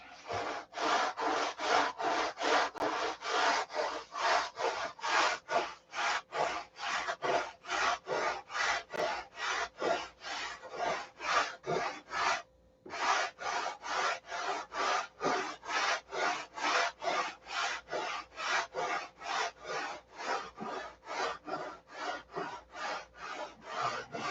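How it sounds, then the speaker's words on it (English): Wooden gun part being ground by hand with 36 grit abrasive, a steady run of rapid, evenly spaced rasping strokes that carries on for a long stretch with one brief pause midway. "this is 36 grit. Let's start grinding it"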